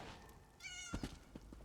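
A cat character meows in the video game The Elder Scrolls Online, one short tonal call followed by a few soft thumps, heard faintly against a quiet game background.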